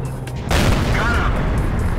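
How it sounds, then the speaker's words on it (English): A heavy tank cannon fires with a loud, sudden boom that rolls into a long rumbling tail, from the SU-100Y tank destroyer in a World of Tanks battle. "Shooting with this monster cannon at these little guys"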